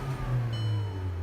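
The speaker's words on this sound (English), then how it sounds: "When you rev the engine," A 2015 Volkswagen Jetta 2.0-liter four-cylinder engine revs briefly, a steady low hum that swells only slightly, quiet and smooth without any roar.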